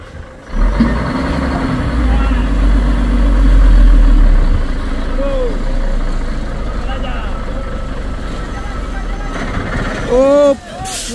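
A heavy Fuso trailer truck engine rumbles steadily throughout on an uphill climb at Bukit Kodok, Sorong, with people talking over it and a brief rise in noise near the end.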